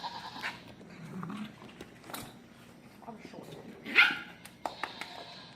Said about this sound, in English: If you're hearing goats in the background